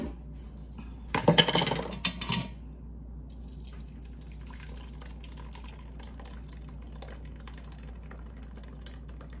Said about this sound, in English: so I'm going to go ahead and strain it into here